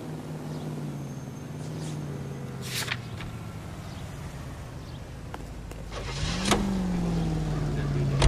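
A car being driven in the game L.A. Noire: a steady low engine hum that dips and then climbs again as it revs, with a couple of brief mechanical clicks and whirs partway through.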